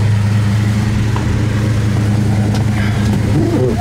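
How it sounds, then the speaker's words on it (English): A 1968 Plymouth Road Runner's 383 V8 idles through dual exhaust, a deep, steady rumble loud and close with a throaty low burble, staying constant throughout with faint background noises. "that dual exhaust sounds awesome too, coming out of that 383, period correct"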